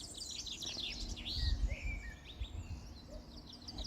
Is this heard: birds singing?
yes